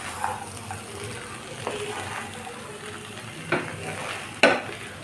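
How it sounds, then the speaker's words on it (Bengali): Fried egg is stirred into chira polao, a flattened-rice pilaf, in a pan, with a soft continuous sizzle and scraping, and a couple of sharper clinks of the utensil against the pan near the end. "ডিমটা দিয়ে ভালোভাবে মিশিয়ে নেব।"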